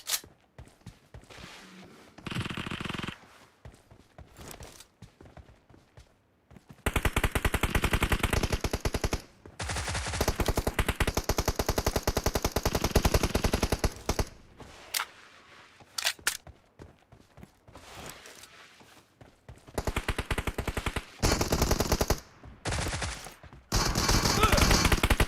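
Bursts of gunfire fill a PUBG Mobile match, with long stretches of loud sustained automatic fire broken by shorter volleys and gaps of near silence.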